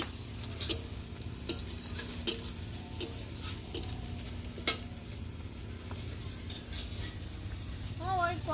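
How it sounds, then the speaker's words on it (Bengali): Onion and garlic frying in a wok, a steady low sizzle with clinks of a spatula against the pan at irregular intervals, close and moderately loud, with no talk. "পেঁয়াজ রসুনটা একটু লাল লাল ভাজা হয়ে গেলে"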